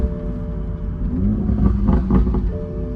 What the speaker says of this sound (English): See, it's shifting all on its own.